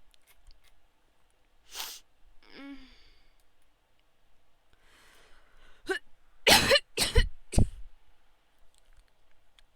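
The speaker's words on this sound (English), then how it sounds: "I have a cough." A person recovering after a hospital stay coughs a few times close to the microphone, short sharp bursts clustered together after a sigh and some quiet breathing in an otherwise quiet room.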